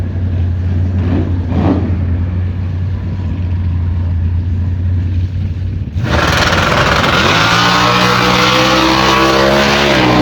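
A Ford Mustang Cobra Jet S550 launches at a drag race, its engine erupting into a loud, sustained high-revving roar after several seconds of low idling rumble, close and without talk.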